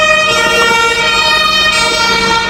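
Ambulance siren wailing continuously near Berlin's main train station, its steady harmonic tones loud and close throughout with road traffic noise beneath.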